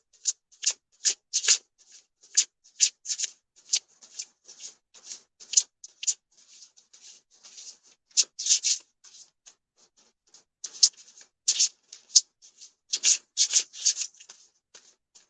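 Oracle cards are shuffled by hand before a draw, a close, dry run of quick irregular riffling and sliding bursts with short pauses between, no voice present.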